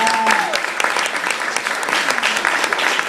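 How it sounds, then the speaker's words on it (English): A comedy show audience claps steadily and loudly for about three seconds. The dense applause continues without a break, with a little crowd murmur beneath it. "Give them a round of applause."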